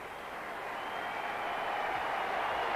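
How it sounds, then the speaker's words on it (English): Warm crowd applause at the MCG for Srikkanth reaching fifty in the 1985 India versus Pakistan final, a steady broad roar of clapping that swells slightly and holds loud throughout. "a warm ovation for him from this MCG crowd"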